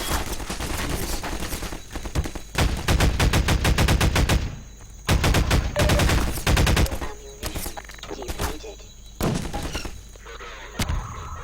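Rapid bursts of automatic gunfire in a first-person shooter, loud and close, firing in long strings separated by short pauses over about eleven seconds with no talk.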